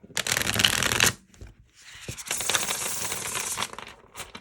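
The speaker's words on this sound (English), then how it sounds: "I might give this a shuffle." A tarot deck is riffle-shuffled close up: one crisp burst of flicking cards, a brief pause, then a longer second run of papery shuffling.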